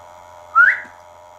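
A single short whistle, rising slightly in pitch, sounds close and clear against quiet background hiss, during a ghost hunt at Fort Paull in Hull, UK.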